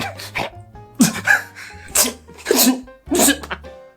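A rapid run of about five sharp, breathy sneezes comes one after another, loud and close, with no talking.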